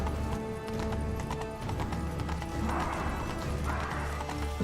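Horse hooves clip-clop at a steady gallop in The Witcher 3: Blood and Wine, loud and continuous with a couple of whinnies and faint game ambience behind.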